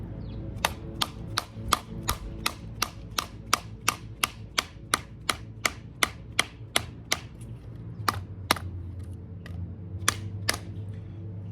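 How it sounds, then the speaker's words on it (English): A CRKT BT Fighter knife is struck crosswise with a wooden stick, giving a steady run of sharp, evenly spaced knocks close by, about twenty in a row with a short pause before the last few. "I'm gonna do some cross batoning here with the stick and see if anything comes loose or breaks on it"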